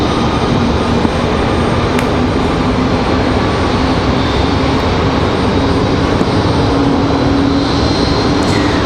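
Steady, loud roar of a jet airliner's engines spooling up at Raleigh-Durham International Airport, a dense unbroken rumble and whine that holds for the whole stretch with no voices.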